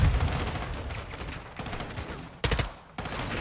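Gunfire in a Call of Duty MW2 campaign mission: loud, dense bursts of rapid shots that roll on almost continuously, broken by a couple of brief pauses.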